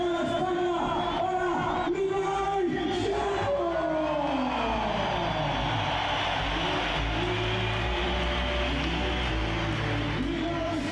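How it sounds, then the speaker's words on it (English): Large stadium crowd at the Las Ventas bullring during a Red Bull X-Fighters freestyle motocross event, a steady roar of cheering and shouting that swells and holds throughout, with a passing engine-like whine rising and falling beneath it. "just sit here and start listening to the crowd"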